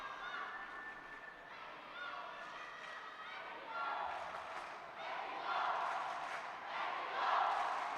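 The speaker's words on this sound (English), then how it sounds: "You hear the crowd cheering" Crowd at a judo match in the World Judo Masters 2016, a dense roar of voices that swells and surges into louder cheering and chanting toward the end.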